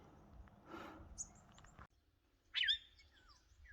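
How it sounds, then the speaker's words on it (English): An odd, unfamiliar bird call rings out, a short high squeaky note followed by a louder sharp chirping burst, amid quiet outdoor background. "I never heard a bird make that noise though"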